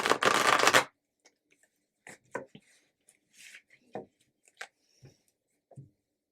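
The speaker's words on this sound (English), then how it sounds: "We'll give it one more good shuffle." Tarot cards get a brisk riffle shuffle in one loud burst, then a scattering of soft taps, flicks and card handling sounds close by in a quiet room.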